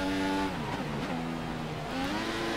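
A Formula 1 car engine in the game F1 2014, heard during Italy practice. The high-pitched whine dips and climbs as the revs shift through gears, loud and continuous.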